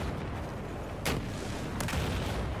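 A PTW gun firing in Battlefield 4 during a blizzard: two sharp, booming shots about a second apart over a steady roar of wind and battle noise, with no talk.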